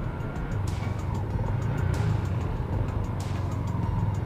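Heavy traffic rumbles steadily on a congested road near Nangka in the Philippines, recorded from a moving motorcycle, with a constant low engine drone and a few brief passing vehicle whooshes.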